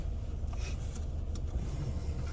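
Cars passing in morning traffic on a snowy Wednesday, a faint, steady low rumble of engines and tyres heard from inside or near the road, with a couple of brief swishes as vehicles go by and no talking.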